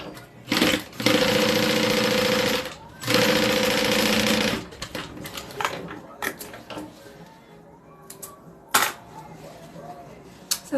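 A sewing machine quilts a fabric pot holder in two sustained bursts of rapid whirring stitching, close and loud, followed by scattered clicks, clatter and handling noises.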